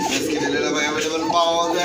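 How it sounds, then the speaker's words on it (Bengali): Racing pigeons cooing softly nearby at a pigeon fair, low rolling coos repeating over a steady background hum of other birds. "রেসার রেসিং কবুতর"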